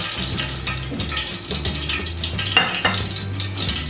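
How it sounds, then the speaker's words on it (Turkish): Paçanga börek pastry sizzles and crackles in hot oil, a steady frying hiss close by with small pops throughout. "diğer böreklerimi de aynı şekilde kızartıyorum"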